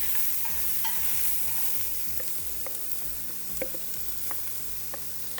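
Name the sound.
chopped vegetables sizzling as they fry in a pan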